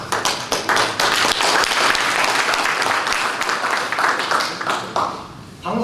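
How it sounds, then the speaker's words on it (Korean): A large audience bursts into sustained, loud applause, dense clapping holding steady for several seconds with faint voices mixed into the crowd. "박수 한번 쳐주십시오."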